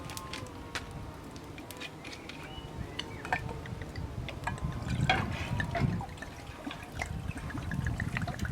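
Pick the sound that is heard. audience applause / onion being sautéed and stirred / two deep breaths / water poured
water poured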